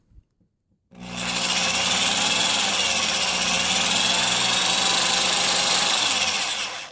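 Wire gripped in pliers is twisted into a helix, producing a loud, close, continuous grinding rub that starts abruptly after a few faint clicks and holds steady for several seconds before cutting off.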